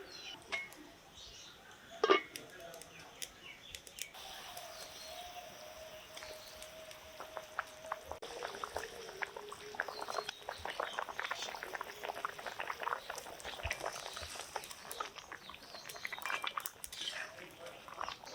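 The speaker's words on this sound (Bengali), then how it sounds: "ভালোভাবে জাল করে ঝোলটা ফুটিয়ে নিলাম" Curry gravy for a katla fish kalia bubbles in a pot, a soft, close, irregular run of small popping bubbles that thickens toward the end, with a brief clatter early on.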